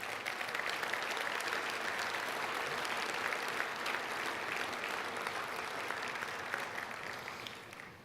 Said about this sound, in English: How about one more round of applause for our best of the best in the Carolinas?